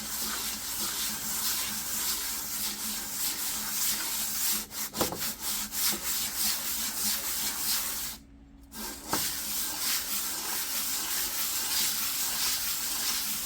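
A golf cart cylinder head from a 2008 Yamaha Drive G29 being sanded flat on 220-grit sandpaper taped to a table, giving a steady, close, rasping hiss of back-and-forth rubbing with a brief pause partway through.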